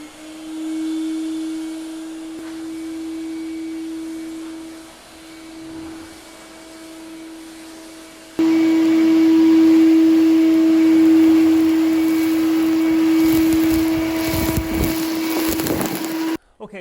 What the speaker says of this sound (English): I'm going to blow it all back into one pile